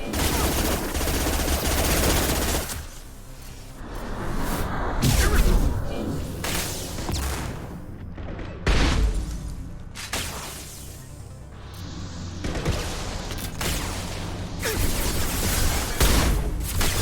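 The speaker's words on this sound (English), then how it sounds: "Firing concussive shot." Gunfire rattles through a Mass Effect 2 firefight alongside a concussive shot, with repeated bursts of shots, booms and whooshes over several seconds, loud and close, while voices talk intermittently.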